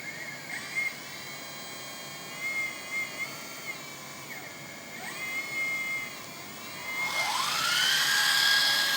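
A 1/14-scale metal RC hydraulic excavator, a LESU Aoue ZX490 model, swings its chassis around, its hydraulic pump whining steadily with rising and falling pitch sweeps, the whine growing louder and harsher toward the end.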